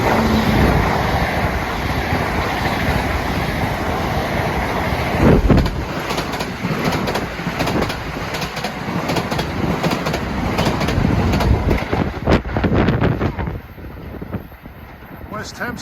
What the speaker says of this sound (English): West Hempstead train being passed by a Huntington train